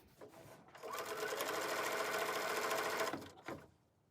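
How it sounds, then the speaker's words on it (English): A sewing machine stitches binding onto the edge of a quilt, revving up into a steady, fast whirring run for about two seconds before stopping, with a few soft handling clicks around it. "And I continue sewing."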